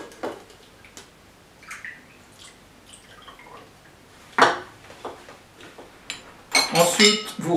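A bar spoon stirs gin and tonic over ice in a glass, giving sparse, bright clinks and a louder burst of rattling near the end against a quiet background.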